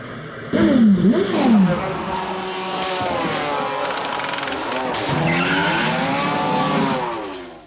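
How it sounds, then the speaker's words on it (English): Racing karts at a Kartmasters final, engines whining close by with rising and falling revs as they pass, over a crowd-like background, with a commentator talking through it. "Getting ever closer to the rear bumper of the number 9 kart."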